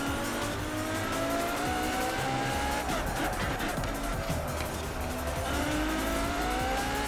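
Ferrari race car driven in Forza Horizon 4, its engine droning steadily with rising gear whines and brief tire squeal, loud and continuous with no talking.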